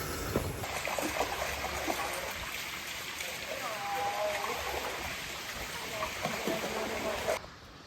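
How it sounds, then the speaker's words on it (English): Stream water and a nearby waterfall rush steadily on a hot-day hike toward Easedale Tarn in the Lake District, a constant close wash of flowing water that holds throughout and then drops away abruptly near the end. "you can see a nice waterfall."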